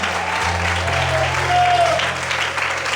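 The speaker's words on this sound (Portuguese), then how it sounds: "Será que você pode aplaudir o Senhor?" A church congregation applauds steadily throughout, a dense wash of many hands clapping in a large room, with a low sustained organ or keyboard tone underneath.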